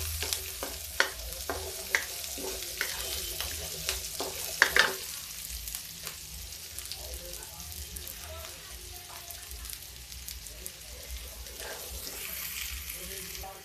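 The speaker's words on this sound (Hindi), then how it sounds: "राई, जीरा, सौंफ सब भून रहा है" Mustard seeds, cumin and fennel fry in a pan, a soft steady sizzle with a few sharp stirring clinks early on, fading to a quiet continuous crackle.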